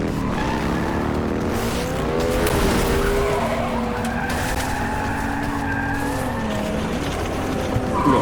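A car in the Cyberpunk 2077 video game skids and slides, tires squealing loudly in long, wavering tones over a constant engine roar that runs through the whole stretch.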